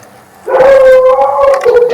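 A dog lets out a loud, drawn-out howling whine close by, holding a steady wavering pitch for over a second after a quiet start.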